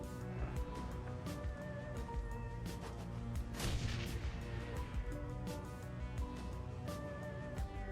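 A grenade explodes in a shooter video game amid a dense stretch of gunfire and blasts, a loud burst landing near the middle over busy background music and effects.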